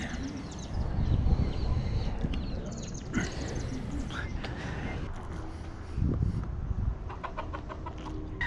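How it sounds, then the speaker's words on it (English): Chickens cluck while crossing a road outdoors, with the clucks mixed into steady background noise and a voice talking. "Here we literally have chickens crossing the road."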